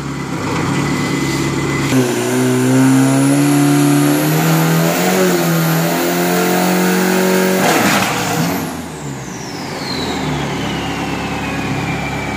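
An Isuzu Pro diesel 3000 pickup on a drag strip revs hard and climbs through its gears at loud, close range. The roar then cuts off abruptly, leaving a fading whine and lower engine noise.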